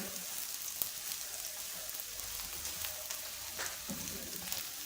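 An omelette fries in a pan with a steady, soft, continuous sizzle and crackle, heard alone with no talking.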